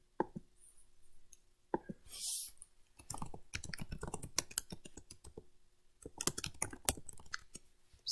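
Rapid clicking keystrokes on a computer keyboard come in uneven bursts and pauses, close and fairly quiet, with a brief whoosh midway.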